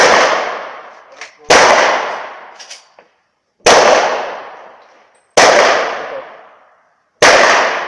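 Heckler & Koch P30 9mm pistol fired in four loud, sharp shots at a steady pace, each followed by a long echoing tail, with a few smaller clicks and knocks between them.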